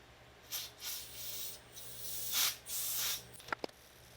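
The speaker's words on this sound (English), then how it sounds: "Once again, brass brush." Brass wire brush scrubbing residue off a BP4W cylinder head from a Ford Escort GT, a series of short, moderately loud abrasive strokes in uneven bursts, ending with a few sharp clinks.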